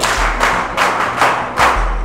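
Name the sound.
audience applause in a class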